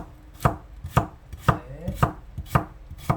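A knife cuts vegetables into thin, long strips on a cutting board, with about eight crisp, evenly spaced chops close up and no talking.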